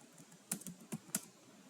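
Light typing on a computer keyboard while writing PHP code, a few quiet scattered key clicks in a short uneven cluster, close and alone with no talk.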